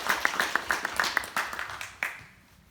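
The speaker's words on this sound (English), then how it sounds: "Let's give them a round of applause." A small audience at a public meeting on a road improvement project claps briefly, with a dozen or so distinct, moderately faint claps that thin out and fade within a couple of seconds.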